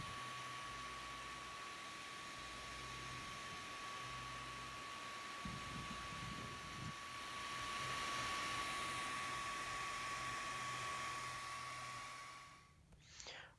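A Creality Ender 3 V2 3D printer runs a PLA calibration cube with a steady fan-like whir and hiss, a constant tone and low motor hum throughout, louder in the middle and fading near the end.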